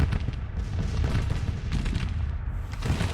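Cannon artillery fire in the Grand Tactician: The Civil War game rumbles as a dense, continuous low booming barrage, distant-sounding and without clear separate shots.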